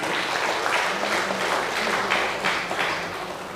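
A church congregation breaks into applause during a Batak-language sermon, a continuous burst of many hands clapping together with brief swells in intensity.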